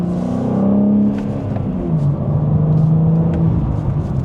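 A 2025 BMW M4 with manual transmission accelerates in second gear, its engine droning in a steady, loud rising note from the cabin with a continuous low rumble and no talking.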